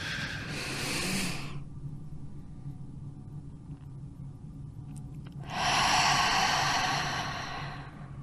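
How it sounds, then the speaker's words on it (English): Slow, deliberate breath through the mouth during a guided breathing exercise: a soft airy exhale at the start, a quiet pause, then a second longer, fuller breath near the end. No talking over it. "breathing out through your mouth for 6"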